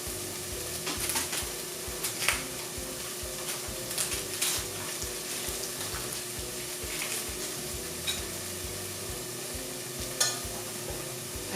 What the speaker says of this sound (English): so you can hear that sizzling noise